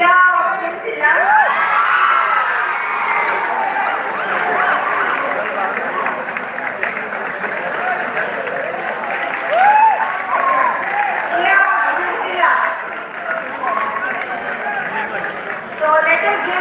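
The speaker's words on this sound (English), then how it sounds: "So let us give a big applause to this girl." An audience at a university prize distribution ceremony cheers and applauds a girl who has won a prize, with sustained clapping, shouts and children's voices forming a loud, continuous crowd roar that swells in places.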